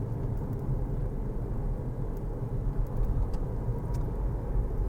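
A car rolls along slowly at low speed, giving a steady, close rumble of engine and road noise with no talking.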